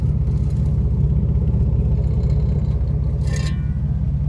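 A Chevrolet S10 pickup fitted with a mock-up exhaust tip idles nearby with a steady low rumble and a brief clatter near the end.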